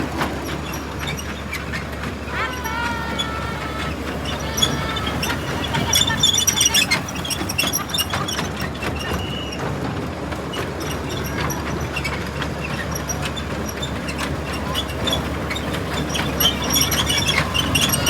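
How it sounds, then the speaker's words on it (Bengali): Kiddie ride train at Happyland park in Bangladesh rolling along with steady rumbling, faint clicking and occasional squeals, mixed with a busy amusement-park background throughout. "আরফান ট্রেন চালাচ্ছে"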